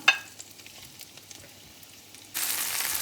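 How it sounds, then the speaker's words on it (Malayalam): Capsicum sautéing in hot oil in a pan for a homemade Chinese-style dish: faint crackles and a few clicks at first, then a sudden loud, close, continuous sizzle as the pieces hit the oil and keep frying. "എണ്ണ ചൂടായി കഴിയുമ്പോൾ കാപ്സിക്കം നമുക്കൊന്ന് വഴറ്റിയെടുക്കാം"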